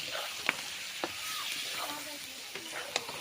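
Chicken being braised in a pan, a steady hiss of sizzling oil with occasional stirring scrapes and light clinks, close and moderately loud.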